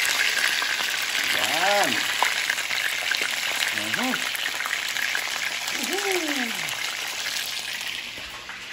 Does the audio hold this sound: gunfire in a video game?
no